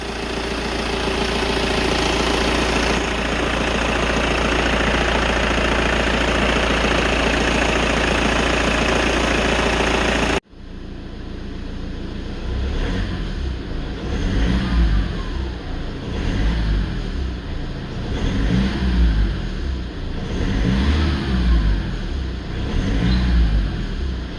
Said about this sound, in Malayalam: ഈ വണ്ടിയുടെ എൻജിൻ സൗണ്ട് ഞാൻ കേൾപ്പിക്കാം